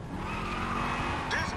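A car drives and skids with squealing tires in the video game GTA V, a steady loud engine and tire screech running throughout under excited talk.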